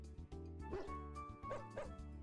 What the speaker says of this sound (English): the Pyrenees over there is big floof dog. That go bork